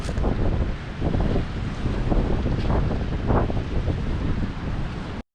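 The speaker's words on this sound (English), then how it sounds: "you see those waves washing in" Sea waves wash in on a rocky shore at dawn, a continuous rushing roar with gentle surges. Heavy wind buffeting on the microphone masks much of it, and no one speaks.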